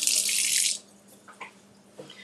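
Tap water gushes loudly as a fresh strawberry is rinsed under it for under a second, then shuts off, leaving faint drips and small kitchen clatter.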